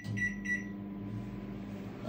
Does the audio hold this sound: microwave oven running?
yes